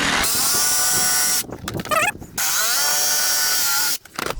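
Power saw cutting a herringbone wood flooring plank, heard as a loud, close, steady whine with a short dip mid-cut before it runs on again.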